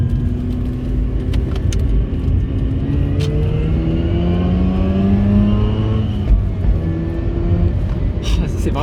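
Inside a car, the engine climbs in pitch through repeated gear pulls past 6000 rpm while accelerating hard, loud and close, with rising whine sweeps and a few clicks.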